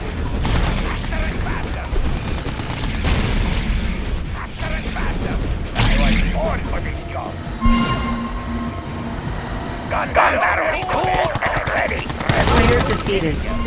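Rapid machine gun fire clatters among mechanical rumbling in a Red Alert 2 battle, loud bursts mixed with unit voices and game effects over about fourteen seconds.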